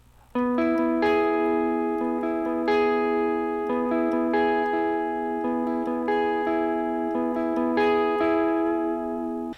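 An electric guitar, with three strings barred, is picked steadily through the chord, each note ringing into lush reverb and delay so the tones overlap in a sustained, shimmering wash, played alone and fairly loud.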